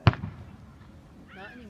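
A firework bursts with one sharp, loud bang at a backyard fireworks display, its crackle fading quickly into quiet before a person starts talking.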